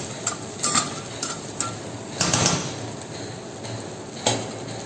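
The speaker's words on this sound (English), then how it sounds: "Again saute a little bit. Make sure it is not sticking to the base." Spices with a little jeera powder being sautéed and stirred in a pan for a Bengali prawn dish, with a steady sizzle and repeated metallic scrapes and taps of a spoon against the pan.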